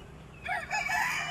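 Chickens cluck and a rooster crows at a backyard coop, the calls starting after a brief quiet moment and running in overlapping bursts, fairly close and moderately loud.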